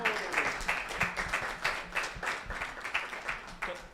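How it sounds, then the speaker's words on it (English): Audience applause at a climate change prize competition, a steady patter of claps in fairly regular waves, moderately distant and even throughout a few seconds. "A round of applause for"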